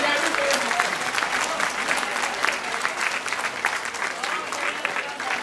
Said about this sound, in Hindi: तालियां बढ़िया